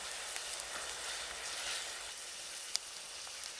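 Black-eyed peas and spices sizzle quietly in a pan, a soft steady hiss with a few faint crackles and one sharper pop.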